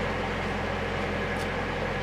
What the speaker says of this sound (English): You can hear the engines on right now.